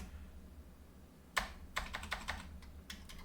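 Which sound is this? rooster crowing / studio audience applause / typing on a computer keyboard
typing on a computer keyboard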